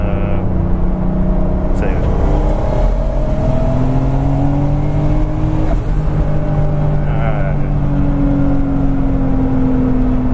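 A turbocharged BMW Z3 M Coupe accelerates hard, its engine note rising steadily in a loud, continuous drone heard from inside the car, with a brief shift midway and a voice speaking over it.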